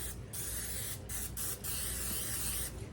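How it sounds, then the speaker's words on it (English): Cooking spray hisses onto baking pans in a home kitchen, several close, steady bursts separated by short pauses, with no talking. "And I'm going to spray the pans."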